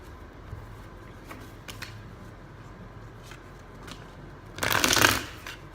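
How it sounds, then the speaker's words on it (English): A quick, crisp riffle of tarot cards being shuffled close by near the end, after a stretch of quiet rustling and faint handling noise. "Got to shuffle these beforehand."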